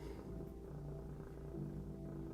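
Close, continuous purring from a cat, a soft steady rumble with no other sounds.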